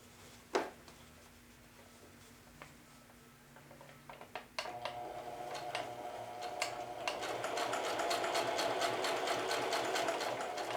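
A sewing machine stitches a pocket onto fabric, a few isolated clicks and taps at first, then a steady rapid whirring run of stitches that builds and continues to the end, close and with no talk.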